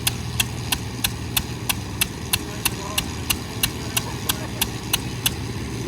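A homemade tractor driving on asphalt: its engine chugs steadily underneath, with sharp regular clicks repeating about three times a second, close and alone with no talking.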